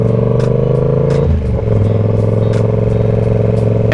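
A Yamaha R7 motorcycle engine hums steadily, then briefly dips and clatters as it shifts up to second gear before settling into a lower, continuous drone, close and loud.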